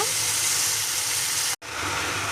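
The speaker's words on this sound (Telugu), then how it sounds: "దోసకాయ ముక్కలు, అవన్నీ ఇందులో వేసేసుకోవాలి. ఇవన్నీ బాగా మగ్గాలి" Cucumber pieces frying in a pan give a steady, dense sizzle with a brief cutoff near the end before the hiss resumes.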